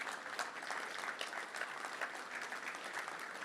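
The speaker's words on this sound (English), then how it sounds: "Let's give a round of applause for Hazel back there." A room full of people at a Little Rock Touchdown Club luncheon applauds a member's 80th birthday, with steady, dense clapping filling the space from start to finish and nobody speaking over it.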